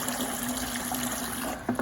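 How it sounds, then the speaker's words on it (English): Water runs steadily from a tap into a container, a continuous close gushing with a faint hum and a small knock near the end. "turn on the water. And let it fill up a decent amount"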